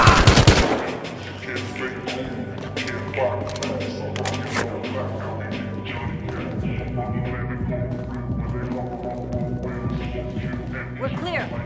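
Battlefield Hardline gunfire: a loud opening burst followed by scattered shots and rattling bursts over a steady game soundscape, while radio-style voices talk throughout.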